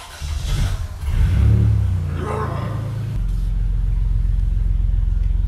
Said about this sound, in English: We're about to move the RV out of the garage